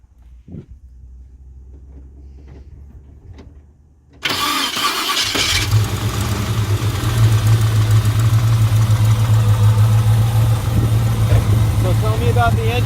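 A restored 1963 Chevrolet Nova SS convertible with a rebuilt 9-to-1 compression V8 cranks briefly, catches with a loud roar, then settles into a steady, rumbling idle close by. Voices are heard faintly beforehand.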